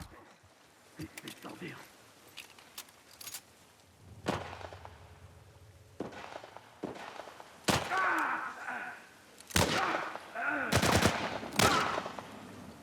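Gunfire in the video game The Last of Us Part I, sharp scattered shots with single cracks and short bursts, growing louder and denser toward the end, under a player's excited commentary.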